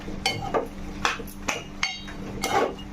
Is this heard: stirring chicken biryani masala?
yes